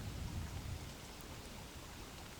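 Steady rain pours down in the survival video game Don't Starve, a dense, even hiss with a slightly heavier low rumble near the start, continuous and alone with no voices.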